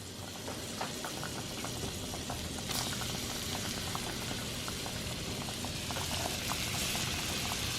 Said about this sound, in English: I'm about to add some butter to it.